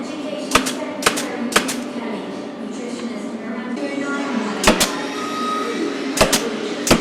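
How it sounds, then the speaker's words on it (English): A pneumatic pin nailer pinning glued wood strips in furniture making, firing several sharp snapping shots in small bursts, two or three at a time, over a steady background hum. "These are glued and pinned in position, again using an air-driven or pneumatic tool."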